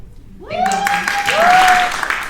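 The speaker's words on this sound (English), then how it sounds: "a big round of applause for you all" A live audience breaks into loud, sustained applause that builds within the first second and continues steadily, with a tonal electronic tone rising at the start.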